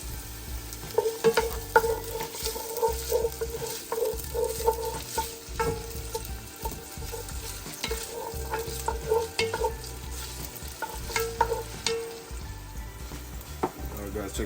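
White onions fry in a pot as the base for a seafood soup, with a steady sizzle broken by repeated scraping stirs, close and moderately loud.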